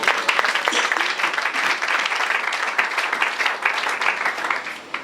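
A church congregation at a French-language service applauds for the Lord, a thick, continuous clapping with faint voices mixed in that carries on loudly before tapering slightly at the end.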